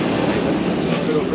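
A Prague tram at a tram station gives a steady, loud rolling rumble with a faint clatter throughout, and a voice talks over it.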